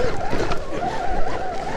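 A Velimotor VMX3000 electric enduro bike ridden in second gear at crawling speed, its motor giving a steady, close, wavering electric whine over rough mechanical rumble.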